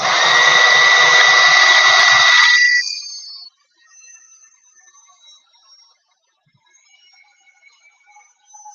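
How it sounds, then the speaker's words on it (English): Loud steady whoosh of a heat gun blowing hot air at a crafting desk, running strongly for about three seconds before cutting off, then only faint quiet clatter remains. "let's see if my heat gun will reach over here"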